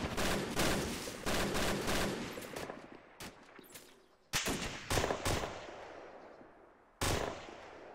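Bursts of machine gun fire from an MG, heard in loud, rapid volleys that come in separate clusters with pauses between, each burst trailing off into echoing decay.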